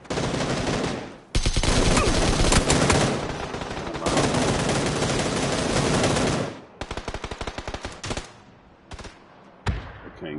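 Sustained automatic rifle fire in PUBG: Battlegrounds rattles loudly in long bursts, then breaks into shorter volleys and scattered shots with brief silences between.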